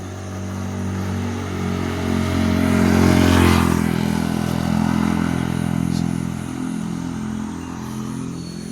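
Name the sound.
motorcycle and scooter passing by on mountain road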